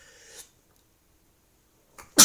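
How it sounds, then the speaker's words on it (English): A single sharp sneeze bursts out at the very end after near silence, preceded by a softer breathy intake, close to the microphone. "If I sneeze, I apologise."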